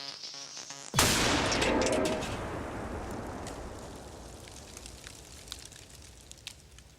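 A simulated IED blast goes off in a cardboard box on a target vehicle: a sudden, sharp, loud explosion after a moment of quiet, followed by a long roaring decay and scattered crackles and pops of debris.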